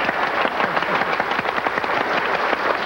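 Steady, dense applause from an audience, many hands clapping continuously without a break.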